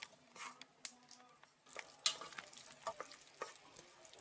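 Onions frying in a pan for a split-pea chorba, a light sizzle under irregular stirring scrapes and clicks of a spoon against the pan, close and fairly quiet.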